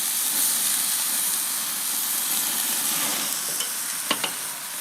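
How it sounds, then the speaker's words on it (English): Prime rib beef searing on a hot surface, a steady close hiss of sizzling fat with a couple of brief sharp crackles near the end. "Last sear, and it's ready to come off"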